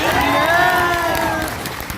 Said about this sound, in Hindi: लेकिन आपकी तालियों में भी जोर होना चाहिए।